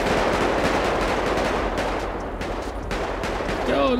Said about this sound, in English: They got that guy just shooting at these cops.